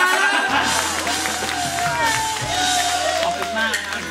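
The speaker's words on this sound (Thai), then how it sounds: "พวกเราปรบมือให้กับสามีคุณตัวด้วยนะ" An audience at a live show cheering and shouting together in a loud, sustained roar, with voices rising and falling. A speaker's voice can be heard over the crowd.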